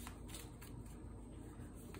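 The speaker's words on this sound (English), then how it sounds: "I'm gonna shuffle." Pokémon trading cards from a theme deck are shuffled by hand, a quiet, soft riffling and sliding sound with a few faint flicks, close and alone.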